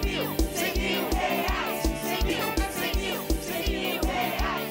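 A television lottery show audience in Manaus cheering loudly over steady, rhythmic drumming and music, a dense, continuous crowd roar with a regular beat throughout.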